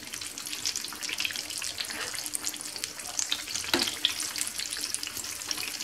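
Apple beignets fry in hot oil, a steady crackling sizzle with scattered pops and bursts, moderately quiet and close, with no voices over it.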